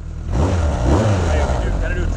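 A 1982 Kawasaki GPZ1100 superbike engine starts up and settles into a close, loud, rumbling idle that runs steadily to the end.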